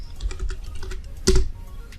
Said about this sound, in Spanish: Voy a escribir recortar.